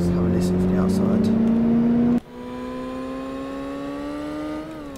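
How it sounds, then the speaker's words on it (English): Engine of a Mini John Cooper in the City Car Driving video game heard from outside, a steady whining drone with a high whistle that drops abruptly in pitch partway through, then holds steady before a slight rise. "it's got a nice little whistle to the engine"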